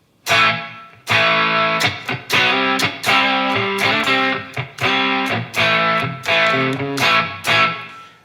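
Electric guitar (Enya Inspire smart guitar) on its overdrive channel plays chunky distorted chords and riffs, loud and close, with short rhythmic stops between phrases.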